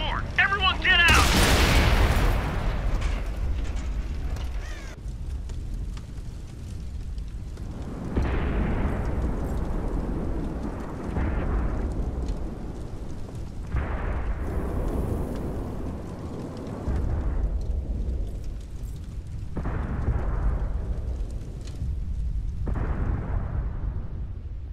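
World of Tanks on Xbox One: heavy tank cannon blasts and explosions roar in repeated bursts, each a loud boom trailing into rumbling decay, separated by quieter gaps.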